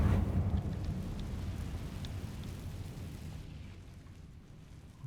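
Incendio fire spell from the Hogwarts Legacy video game: a loud burst at the start that decays into a low rumbling roar, fading steadily over several seconds with no talk.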